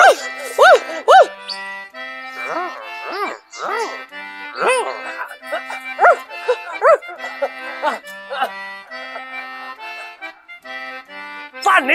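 People imitate a dog, barking out repeated woofs in quick bursts over a children's pirate show, with singing and speaking voices mixed in throughout.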